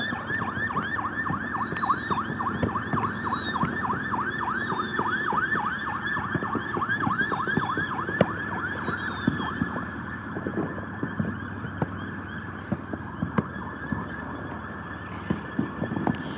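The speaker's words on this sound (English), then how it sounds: "ambulance coming by." An ambulance siren wailing as it passes by, its rapid rising and falling yelp loud at first and then fading, with traffic noise underneath.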